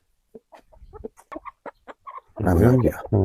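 Scattered clucks and short fowl calls from Turkish and Japanese breed roosters come in bursts, ending in a loud, drawn-out rooster-like call close by.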